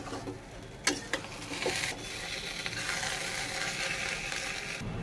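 Soft pineapple sheera halwa stirred in a pan, with a few sharp spoon clinks early on, then a quiet continuous scraping and low sizzle.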